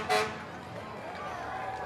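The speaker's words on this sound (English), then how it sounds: "Sounds like another old fire engine coming through." An old fire engine's horn toots once near the start during a St. Patrick's Day parade in St. Augustine, Florida, a short loud honk that gives way to crowd noise and street murmur.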